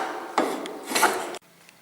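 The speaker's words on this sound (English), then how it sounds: "Now for smoothing the surface, we'll use iron jack planer." Iron jack plane smoothing a wooden plank, two close rasping strokes of the blade shaving across the wood surface, ending abruptly.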